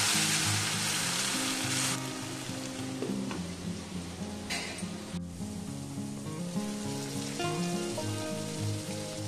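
Snake gourd frying dry in a pan with poppy seed and green chilli paste, a steady dense sizzle with faint tonal hum underneath, continuous and close throughout.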